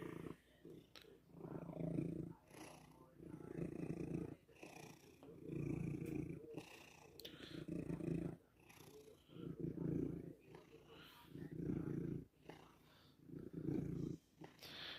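A pet house cat purring steadily in long rhythmic pulses, close and fairly quiet, with a voice talking briefly over it at times.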